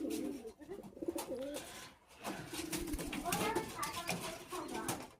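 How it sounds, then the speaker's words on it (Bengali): Pigeons coo in a loft of nesting boxes housing breeding pairs, soft rolling coos repeating close by while a voice talks over them. "আমি এই যে খোপে কবুতর রাখি"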